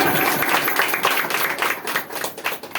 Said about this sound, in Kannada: ಚಪ್ಪಾಳೆ ತಟ್ಟಬೇಕು.